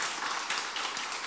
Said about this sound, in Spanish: dale palmas al Rey, por favor. Apláudale fuerte